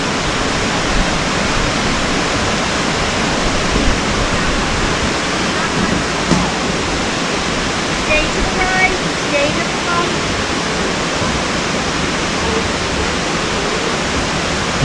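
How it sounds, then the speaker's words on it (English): River water rushing steadily near a bamboo forest in Haleakala National Park on Maui, a constant broadband wash heard close by with no talk over it. "There's the river."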